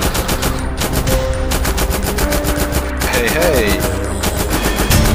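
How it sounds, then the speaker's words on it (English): Rapid assault rifle fire in a zombie survival video game rattles in a dense, continuous burst, loud and close. A brief shout cuts in. "Okay, this is an assault rifle."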